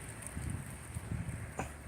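Strong cold wind at dusk in Salerno, blowing as a steady, fairly soft rush with gusty buffeting against the microphone and a few brief low thumps, heard alone with no voices.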